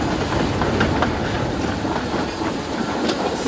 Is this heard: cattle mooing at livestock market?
no